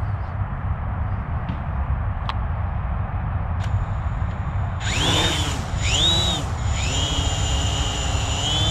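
A budget Simrex X20 drone spooling up its motors for takeoff, a rising whine that surges twice and then settles into a steady high-pitched buzz after a few faint clicks.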